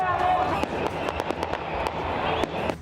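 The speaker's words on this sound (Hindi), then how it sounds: "सड़कों पर नारेबाजी, तालियों की तड़तड़ाहट और आतिशबाजी सुनी जा सकती थी।" Loud street protest march with a dense crowd roar and sharp firework or firecracker bangs cracking through it, several distinct pops spaced unevenly across the stretch, with shouting mixed in.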